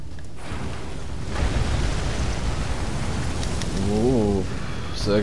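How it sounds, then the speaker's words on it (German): Rain falls in the video game Elden Ring, a broad steady hiss of downpour that swells slightly midway, with a brief warbling game tone near the end and no clear talk over it. "Es regnet."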